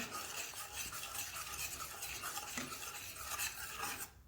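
Homemade chocolate syrup being stirred after cocoa powder is added, a soft continuous scraping and swishing of a spoon in a pan with faint sizzling, steady and close, fading abruptly at the end.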